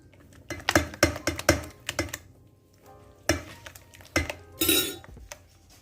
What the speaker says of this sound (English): Just mix all the ingredients up.